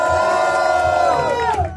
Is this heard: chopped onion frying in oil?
no